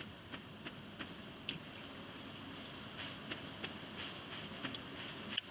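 Rain falls as a soft, steady hiss in Stardew Valley, with faint scattered ticks of drops over the constant wash, quiet and without voices.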